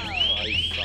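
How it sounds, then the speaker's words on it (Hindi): An anti-animal alarm on a portable camping light blares a loud, rising and falling siren-like electronic wail, close and continuous throughout. "तो इसमें अलार्म सिस्टम है।"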